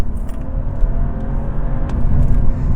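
A BMW M235i with its N55 twin-power turbocharged engine runs steadily, a loud, close, low rumbling drone holding a constant pitch with no voices over it.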